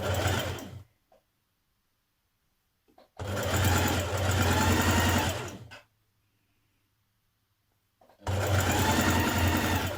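A sewing machine stitches a narrow French seam on a Simplicity 9122 dress, in three close, loud runs of rapid whirring a few seconds each, separated by quiet pauses with faint handling.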